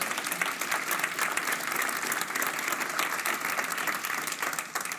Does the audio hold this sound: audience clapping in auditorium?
yes